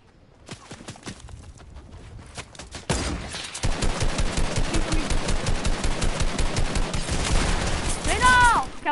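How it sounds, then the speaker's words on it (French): Rapid bursts of enemy gunfire in a video game, loud and dense, rattling continuously after a quieter stretch of scattered single shots, with a voice talking over it. "Et voilà, tire sur nous."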